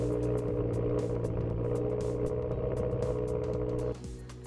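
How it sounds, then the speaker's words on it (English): A GMC Yukon engine idles on a frosty morning, a steady low rumble close by that drops to a quieter idle near the end. "start your car to warm up"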